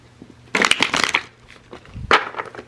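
A deck of tarot cards is shuffled in two quick riffling bursts, close and crisp, with a short pause between them.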